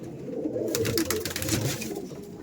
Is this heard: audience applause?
no